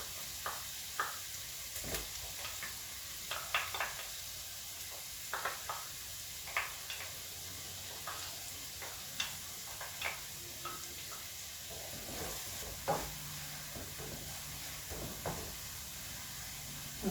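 Two tablespoons of tomato paste fry in a pan for Armenian tolma, giving a steady close sizzle with scattered crackles and small pops throughout, no voices.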